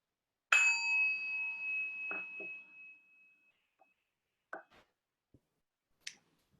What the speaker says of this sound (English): listen to the sound of the closing bell.